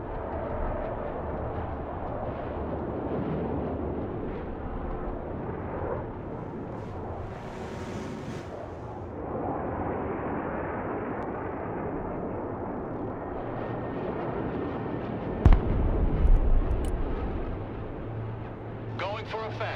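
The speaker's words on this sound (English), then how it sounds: "Airstrike is go for effect" Airstrike bombs detonate in the war game Broken Arrow as heavy, rumbling blasts under continuous battlefield noise, with one sharp, loud impact near the end and voices talking throughout.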